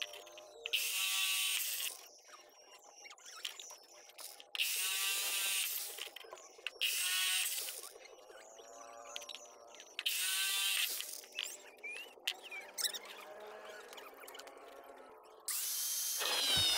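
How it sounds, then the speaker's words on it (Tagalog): An electric drill whines in repeated high-pitched bursts, stopping and starting as it bores through steel, with quieter scraping and handling noises between runs. "akin na siyang binutasan gamit ang ating barena"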